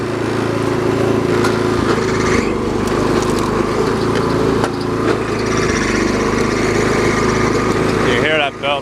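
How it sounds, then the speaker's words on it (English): Lawn mower engine running steadily with a slipping drive belt adding a thin, high squeal over the motor, continuous and close, with a brief sharper whine near the end. "You hear that belt just squealing."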